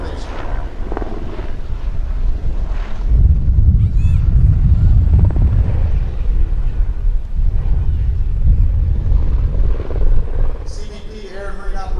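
An AS-350 A-Star helicopter makes a flyby at the Atlantic City airshow, its deep rumbling drone swelling after a few seconds and holding loud, with a voice speaking over it.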